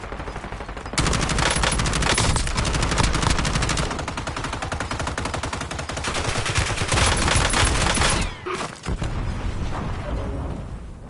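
Rapid, dense gunfire roars almost nonstop in a Warzone match, with heavy shotgun blasts mixed into the barrage and a brief lull near the end.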